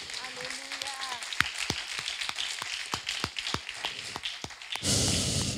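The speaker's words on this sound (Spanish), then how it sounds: "Dale un aplauso a Jesús." A church congregation claps, scattered distinct hand claps in a loose, uneven rhythm, with a voice heard at the start and a burst of broad noise closing the clip.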